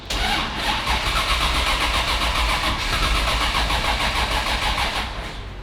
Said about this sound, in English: Hopefully the car fires up.